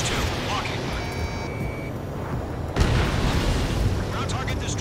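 A ground target explodes in the combat flight game Ace Combat 7, a dense rumbling burst that swells sharply partway through over steady engine and battle noise, with radio voices talking.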